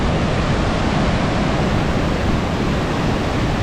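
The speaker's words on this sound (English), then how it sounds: "That's a pretty good sized waterfall." An Icelandic waterfall roars in a constant, dense rush of falling water, loud and close with no pauses.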